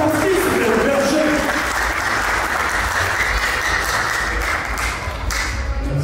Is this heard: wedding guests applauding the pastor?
yes